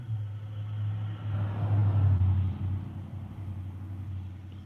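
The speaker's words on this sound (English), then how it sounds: "Here comes the scrapper truck driving by." A scrapper truck drives past on a street, a low engine rumble that swells as it draws near, peaks, then fades away.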